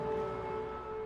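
An air raid siren wails as a steady, sustained tone over a Ukrainian town, heard alone at moderate distance for a brief moment.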